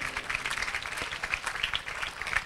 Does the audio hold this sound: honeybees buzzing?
no